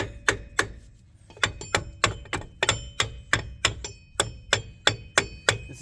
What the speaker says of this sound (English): It's okay to tap him with a hammer.